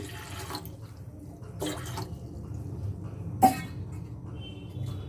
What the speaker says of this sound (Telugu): ముందుగా బౌల్ పెట్టుకొని ఇందులో కొన్ని వాటర్ వేసుకొని